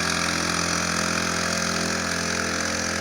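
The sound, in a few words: small outboard motor running on canoe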